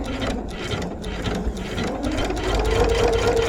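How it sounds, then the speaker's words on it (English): Sewing machine running a long stitched seam on a bag, a rapid steady mechanical clatter of needle and gears that builds slightly toward the end, close and alone. "I'm just going to run the seam. I'm just going to stitch all the way down."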